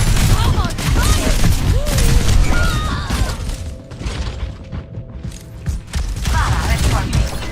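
Dense rapid gunfire and explosions from an Overwatch payload match fill the scene, loud and continuous with overlapping bursts, alongside a voice and game sound effects.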